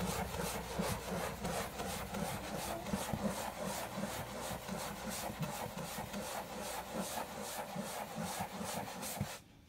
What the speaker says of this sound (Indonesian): kita gosok-gosok kita aplikasikan backlinknya pada kursi kita gosok sampai benar-benar meresap ya pada kursinya